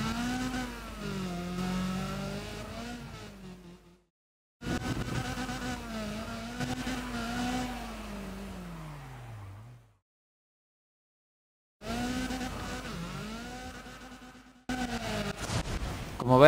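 Engine revving in the racing game Need for Speed ProStreet during a drift run, a loud harmonic whine rising and falling through gear changes, cutting out briefly twice before returning, with no talk over it.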